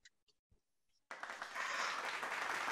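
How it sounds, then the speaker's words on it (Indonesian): An audience breaks into applause after a few faint sounds and a brief pause, the clapping starting suddenly and swelling into steady, full applause at a talk show event. "Luar biasa, kita berikan tepuk tangan dong untuk Pak Dimas."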